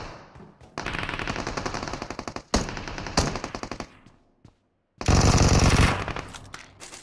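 Automatic gunfire from PUBG Mobile rattles out in loud rapid bursts, two long sprays and a short one separated by brief pauses, then a final dense burst.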